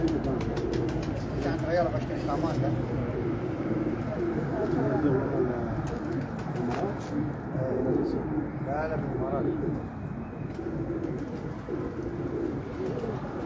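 Pigeons coo on a Lahore rooftop in soft, repeated throaty warbles, nearby, while people talk over them and other birds chirp faintly in the background.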